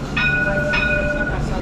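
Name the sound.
tram arriving at a stop in Rio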